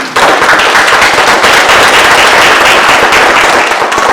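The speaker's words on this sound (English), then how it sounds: "so please clap it up for that" Audience in the Harlem Theater in Baltimore applauding, dense loud clapping from many hands, sustained and close for several seconds with no talk.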